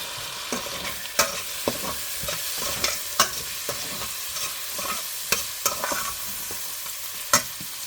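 Shrimp fried rice sizzling steadily in a hot pan, with a utensil scraping and clacking against the pan in irregular strokes as it is stirred, close up and with no talking.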